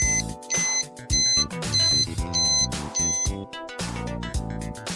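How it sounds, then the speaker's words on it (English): Trouble alarm buzzer on a Fluoro-K fire suppression control panel, signalling a component problem: a repeating electronic beeping pattern in short bursts, moderately loud and close, with no talking. "The trouble alarm. Problem with components, panel buzzer."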